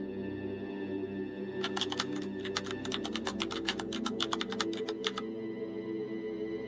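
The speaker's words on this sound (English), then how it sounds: "Typing. Fast. Urgent." Rapid keyboard typing, a quick burst of dense clicking keystrokes lasting a few seconds over a steady low hum, close and clear.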